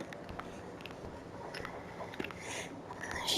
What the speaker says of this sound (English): She's trying to chew on a plastic bag.